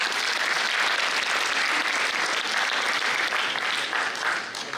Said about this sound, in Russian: Поэтому особые аплодисменты нашим студентам.